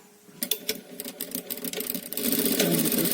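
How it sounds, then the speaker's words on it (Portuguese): A sewing machine stitching a seam on a small sublimated blanket, starting with a few short bursts of rattling stitches before settling into a steady, loud, continuous mechanical whir. "Vamos passar uma costura."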